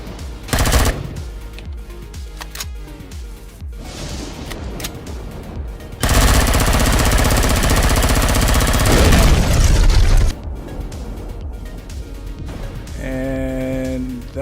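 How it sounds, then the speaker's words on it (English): In the space-survival game Empyrion: Galactic Survival, excavating sets off an explosion: a loud rapid crackling and rumbling blast that swells into a sustained roar, then drops back to rattling debris and a ringing tone. "that was a bigger explosion than I was expecting"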